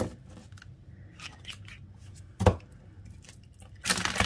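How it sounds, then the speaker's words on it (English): Close, papery shuffling of a card deck, with soft rustles, one sharp slap in the middle and a louder riffle at the end. "Let's give it a good shuffle."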